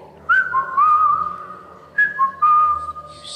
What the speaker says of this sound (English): It's the call of the bird that the artist he heard on YouTube.